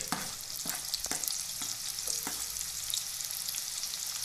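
Long-sliced onion hitting hot oil in a kadhai for Chinese noodles, a bright continuous sizzle with several soft scraping stirs, close and fairly quiet, no voices.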